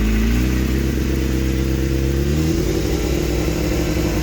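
An old superbike engine holds a steady fast idle, its loud close mechanical drone shifting slightly in pitch partway through, with no talking over it.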